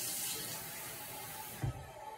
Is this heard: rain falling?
no